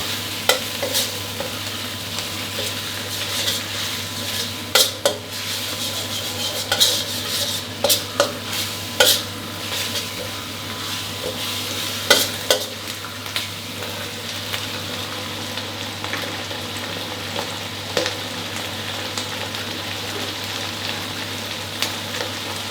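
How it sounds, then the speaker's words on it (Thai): Fermented soybean paste is stir-fried in a pan over medium heat: a soft, steady sizzle runs throughout while a spatula scrapes and taps against the pan in irregular clicks, with no talking. "ผัดให้เต้าเจี้ยวออกกลิ่นหอมเช่นกันครับ ยังคงใช้ไฟกลางๆอยู่นะครับ ผัดสักครู่เดียวพอ"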